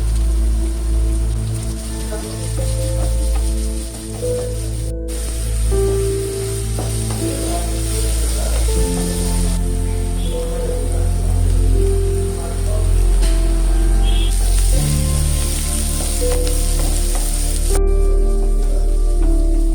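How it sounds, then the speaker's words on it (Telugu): Onions and green chillies frying lightly in hot oil in a pan, a steady close sizzle with soft crackles and faint stirring throughout. "ఆ టైంలో మనం ఉల్లిపాయలు వేసేసుకుని ఉల్లిపాయలు లైట్గా వేగేంత వరకు వేయించుకుంటే సరిపోతుంది"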